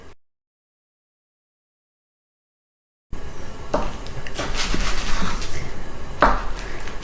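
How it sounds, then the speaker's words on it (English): Knife slicing through vegan sausage rolls made with Richmond meat-free sausages, following a short knock and a stretch of silence, with close, irregular chopping taps and clinks against a board. "I'm just going to cut each one into sausage roll shapes"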